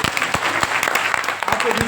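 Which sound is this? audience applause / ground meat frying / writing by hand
audience applause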